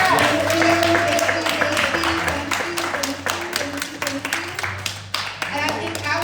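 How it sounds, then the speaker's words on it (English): An audience claps together with scattered sharp hand claps, moderately loud, under a steady low hum and music notes, with a voice speaking across the applause. "Let's give the men a round of applause."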